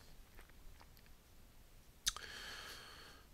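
A single quiet mouse click on a plus button while adding content to a web page, one sharp tick standing out against faint room hiss.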